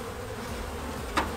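Honey bees buzz steadily around a hive frame held in the hands, a soft continuous drone with one closer bee swelling briefly near the end.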